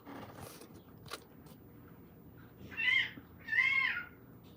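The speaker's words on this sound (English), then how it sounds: "The cats are fighting outside." Cats outside fight in two loud yowling, screeching bursts at a moderate distance, rising out of quiet ambient background noise after a few soft knocks.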